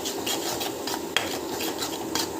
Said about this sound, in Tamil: அரைச்சி வச்சு டமாட்டா பியூரி வந்து ஆட் பண்ணிவிட்டு நல்லா வந்து வதக்கிட்டுக்கோங்க.